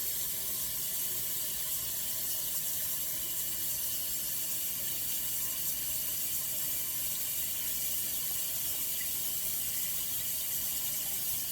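Cold tap water runs steadily into a pot holding salted cod set to soak, a constant broadband hiss and splash lasting throughout with no pauses and no talking.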